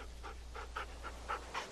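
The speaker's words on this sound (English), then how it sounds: "I don't want to pet the dog yet." A dog in The Walking Dead video game pants in quick, even breaths, about seven short puffs at a steady rhythm. The sound is close but soft, with a low hum underneath and no talking.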